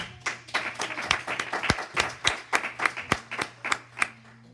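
Congregation in a church service applauding for the Lord: a sparse, uneven scatter of claps from a modest group, with a steady low hum beneath and a few sharper individual claps standing out.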